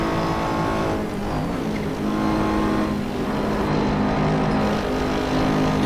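A Mercedes GT3 race car in Assetto Corsa at Paul Ricard, its engine droning loud and steady with rising and falling revs through gear changes, running alone without talk.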